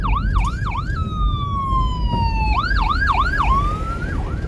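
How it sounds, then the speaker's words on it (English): An ambulance siren passes on a road at night in Yallahs, Jamaica, loud and close, cycling through rapid yelping wails, briefly gliding into a long falling tone, then yelping again over steady traffic rumble. "It's an ambulance, guys."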